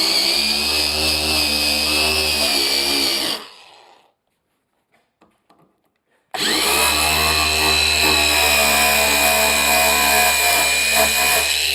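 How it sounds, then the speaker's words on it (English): Engine revving on a rebuilt classic car with a loud setup, a strong roaring drone that drops abruptly to near silence for a couple of seconds, then roars back at full volume close by. "Alright, so you get a little rev up."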